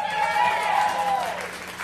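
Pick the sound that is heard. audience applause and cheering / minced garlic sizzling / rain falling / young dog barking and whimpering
audience applause and cheering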